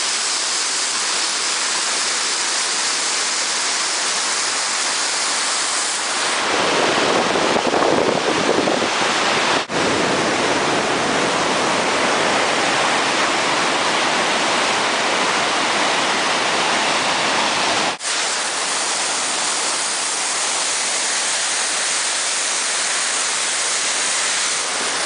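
Flooded Passaic River thundering over the falls at the mill at Little Falls, a dense, unbroken roar of rushing water, loud and close throughout, swelling even heavier midway with no voices.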